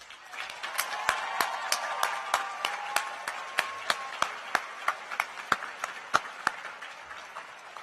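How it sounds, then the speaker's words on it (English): Audience applause at a Union High School 2019 commencement, a loose scatter of sharp individual claps over a soft crowd wash, tapering toward the end. "please join me in thanking our families and staff with a well-deserved round of applause"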